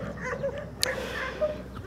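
Dogs at an animal shelter near Tangier housing over 600 dogs, giving a few soft yips and whimpers over a steady background hum, with one sharp brief click partway through.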